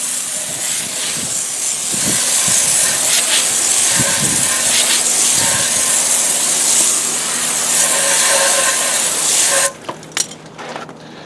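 A water spray hisses steadily while rinsing off a car wheel during auto detailing, loud and continuous for most of the clip, then cutting off into a few scattered drips and clatters at the end.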